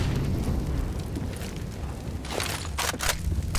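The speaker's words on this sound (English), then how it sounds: "Incendiary's out, flashes over." An incendiary grenade bursts into flame in CS:GO on the Inferno map during an IEM Cologne 2021 pro match, a loud rumbling roar with sharp crackling bursts toward the end.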